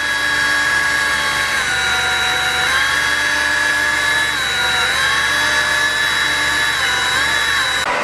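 A power tool polishes the bottom of a metal spoon, giving a loud, steady whine that runs the whole time with slight pitch shifts as the load changes, with nobody talking.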